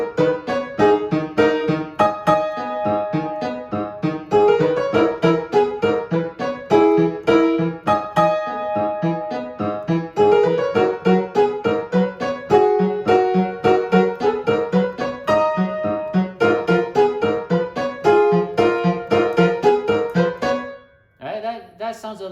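Solo piano plays a piece from Kingdom Hearts without sustain pedal, giving a dry, detached sound; dense chords and a repeating melody run steadily and loud for about twenty seconds before ending abruptly.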